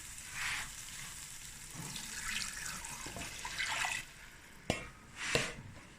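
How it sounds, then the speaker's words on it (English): Water pours into a pot of frying Cape Malay sugar beans stew, splashing and gurgling against a soft sizzle. A few sharp clinks and knocks come near the end, with no talking. "now I'm going to add more water"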